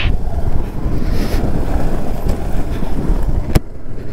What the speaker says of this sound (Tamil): ஜில்லுன்னு காத்து.